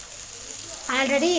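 Pieces of elephant foot yam frying in a pan give a steady, soft sizzling hiss throughout, and a person starts talking over it partway through.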